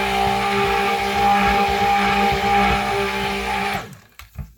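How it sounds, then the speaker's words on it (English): A stick blender whirs steadily while mixing lavender vanilla cold process soap batter, a loud humming motor drone with a tonal whine that runs for several seconds before cutting off abruptly, then brief faint clunks. "Let me get this off the stick blender."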